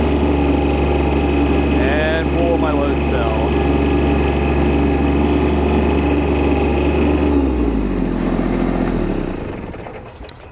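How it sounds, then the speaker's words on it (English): Tractor fitted with an A434 loader and self-leveling kit, its engine held at high RPM in a loud steady drone under a brief spoken remark, then winding down and fading out near the end. "Bring our engine RPMs the whole way up so I get full hydraulic pressure."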